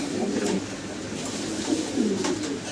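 Fancy Bukhara pigeons coo in low, rolling bursts, a soft continuous throaty murmur close by with swells around the middle and end of the clip.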